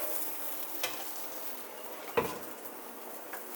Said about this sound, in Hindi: ज़ीरा डालने के बाद अब मैं ये डाल दूँगी प्याज और टमाटर जो मैंने पीसे थे